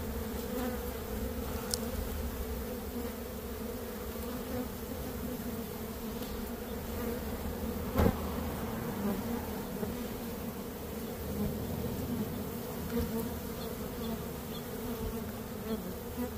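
Honey bees buzz steadily around a collapsed comb during a rescue, a dense, continuous close-up drone of many wings that holds at a constant level throughout, with no talk.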